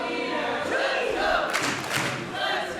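A wrestling show crowd in Beverly roars and cheers continuously, a dense wash of many voices that swells louder in the second half.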